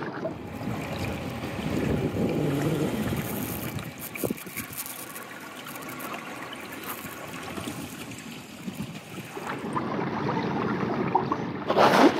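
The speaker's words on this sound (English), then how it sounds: "A little windy. Usually is in the morning out here." Wind gusts over open water on a salmon-fishing morning at Brewster Pool, heard from an Old Town AutoPilot 120 fishing kayak, with steady rushing and buffeting noise across the whole stretch and water lapping near the hull.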